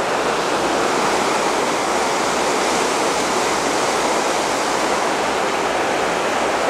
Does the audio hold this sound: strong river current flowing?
yes